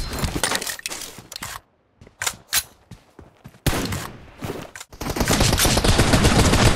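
Rapid gunfire rattles in a PUBG team deathmatch, with dense bursts and single shots, short gaps and a sustained loud automatic barrage near the end, close and aggressive throughout.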